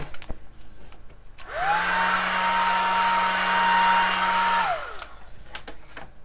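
Hair dryer blowing on paper to dry ink, spinning up with a rising whine, holding a steady loud roar for about three seconds, then winding down, with a few quiet clicks around it.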